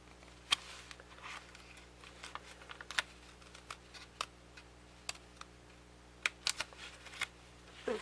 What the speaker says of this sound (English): I'm just going to do a little trim like this right up to that fold line